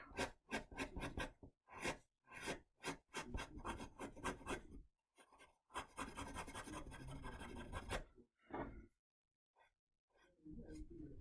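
Eraser rubbing on drawing paper while lifting out highlights in braided hair: quiet, close, scratchy back-and-forth strokes in short rhythmic bursts separated by brief pauses, with no talking.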